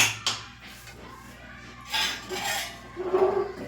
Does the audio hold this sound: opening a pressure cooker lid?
yes